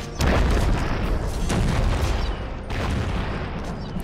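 Heavy cannon fire and explosions from the strategy game Settlers: Heritage of Kings, a dense rolling barrage of booms lasting throughout, loud and close, with a brief dip before the blasts resume.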